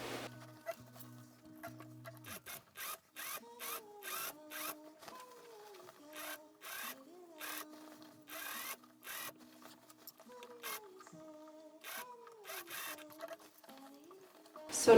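A sewing machine top-stitches a gown, running in short bursts separated by brief pauses, its needle rattling rapidly while the motor whines and rises in pitch with each run, close and clear with no talk.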